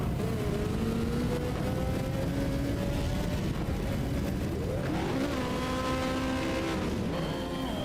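A hill climb race car, number 35, accelerates up the hill, its engine note rising and shifting through gears, loud and continuous with no talk.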